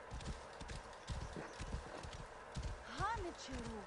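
A horse in Assassin's Creed Origins approaching at a steady trot, its hoofbeats clopping rhythmically under faint game ambience before a short whinny near the end.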